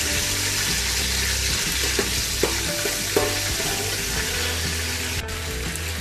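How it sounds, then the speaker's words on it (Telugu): Mace, five or six cloves, two cardamom pods and mint leaves fry in hot oil in a pan for mutton bone biryani, a steady close sizzle with a few soft clicks of spices shifting. "కొంచెం జాజి పువ్వు, 5 లేక 6 లవంగాలు, 2 యాలకులు, కొంచెం పుదీనా వేసి వేగనివ్వండి"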